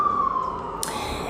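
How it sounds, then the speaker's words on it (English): An emergency vehicle siren wails briefly as it passes, a loud tone sliding down in pitch, followed by a burst of broadband traffic noise. "I'm going to let that siren go by."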